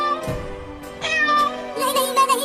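A cat meows several times in quick succession, close and fairly loud, with short bursts of other noise between the calls.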